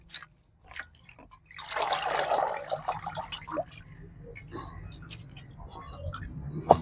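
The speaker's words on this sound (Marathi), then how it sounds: "दुसऱ्या पाण्यानं भाजी मस्त चकचक धुवून घेतली" Water sloshes and splashes as tandulja (amaranth) greens are swished and rinsed in a basin, loudest early on, then settling into softer wet handling with faint voices behind.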